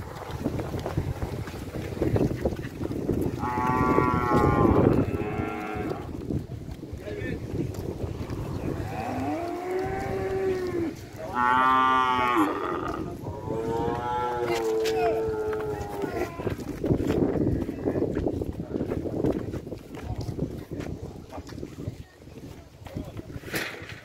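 Cattle, including tame oxen, at a busy livestock fair in São Benedito, Ceará, give several long, drawn-out moos in a row over steady outdoor wind noise and a low background din.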